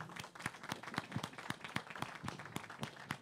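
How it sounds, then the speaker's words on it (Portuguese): Faint, distant clapping from a small crowd at a hospital inauguration in Hidrolândia, Brazil, steady and rhythmic, continuing throughout. "o Paulinho merece o nosso aplauso"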